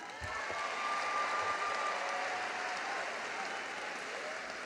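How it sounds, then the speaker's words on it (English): A large audience applauds graduates at the 2018 William Penn graduation ceremony, a dense, steady wash of clapping that holds at full strength throughout and tapers only slightly near the end. "One more large round of applause for our graduates tonight"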